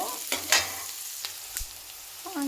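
A pan sizzles softly with frying for Andhra-style tomato gojju, as a few sharp spoon scrapes and knocks stand out against the low hiss.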